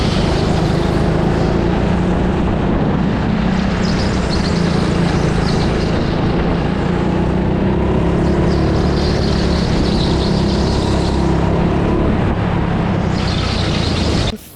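Racing kart at Stockston Teamsport track, its engine buzzing loud and close in a sustained whine that rises and falls with throttle through corners and straights, cutting off abruptly at the end.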